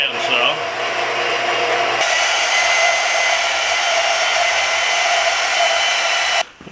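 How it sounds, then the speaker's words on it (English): A bandsaw cuts through the steel shank of a large ball hitch with a steady, loud, hissing whine close by, the tone shifting slightly as the blade bites in, then stopping near the end. "This big ball hitch is big enough I can cut the shank, shaft, whatever it's called, off with the bandsaw."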